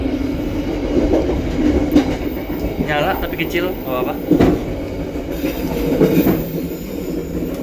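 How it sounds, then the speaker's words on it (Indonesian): Interior of a moving local economy-class train, heard from inside its toilet: a steady rumble and rattle of wheels on rails, with brief metallic squeals, while people talk nearby. "Nah sekarang kita sudah di dalam toilet kereta api lokal ya."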